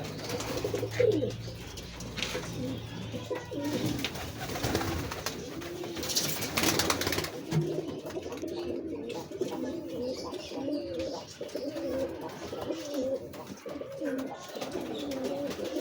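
Pigeons or doves cooing, repeated soft low rolling coos in a steady rhythm, close by, with a voice speaking over them early on and a brief rustle partway through.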